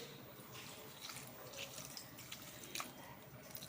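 Water poured in a small stream into a dish of Tamil-style okra kadaiyal with salt, turmeric and chilli powder: a soft, steady, faint trickle and splash lasting a few seconds.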